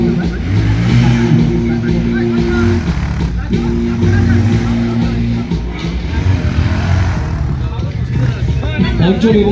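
Bajaj Pulsar N160 and Pulsar 220 motorcycles rev loudly at an open-ground stunt show, engine drone rising and falling beneath crowd babble and a busy outdoor din.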